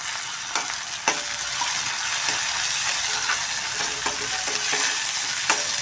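Chopped tomato and onion sautéing in a pan for besan-spinach bhaji: a loud, continuous sizzle carries a few sharp clicks and scraping strokes from stirring, close up, with nobody talking.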